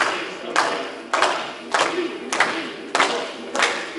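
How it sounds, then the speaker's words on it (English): Hands clap in a slow, even rhythm, about one clap every half second, six or seven loud close claps with a faint voice in the background. "All you do is clap your hands and try to follow me."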